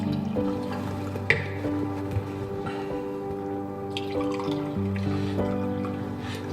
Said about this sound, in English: I'm just gonna go in and add a little bit of water to the vases